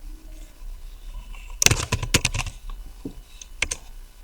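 Fingers type a short burst of keystrokes on a computer keyboard while filling in a spreadsheet, a quick cluster of crisp clicks followed by a few isolated taps, close and clear with no speech.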